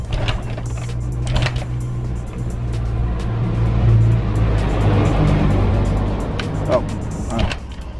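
A Honda Vario 125 FI motorcycle engine starts and then idles steadily and loudly nearby for the whole stretch, with a low continuous hum and a few brief clicks.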